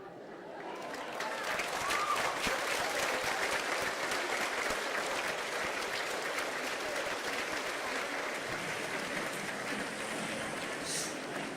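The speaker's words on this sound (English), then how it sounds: "Now, Mariel Vargas and Jesus Paul, let's receive them with big applause" A sustained wash of applause from an audience at a TED-style talk greets speakers. It swells after a brief quiet start and holds steady, moderately loud, for about ten seconds.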